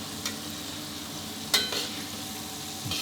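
Egg tofu frying in a pan of oil while being stirred, a steady close sizzle with a few brief scraping stir sounds.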